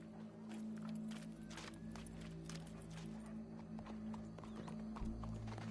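Horse hooves clip-clop steadily in Red Dead Redemption 2, close and fairly loud, with a low hum running underneath for the whole stretch.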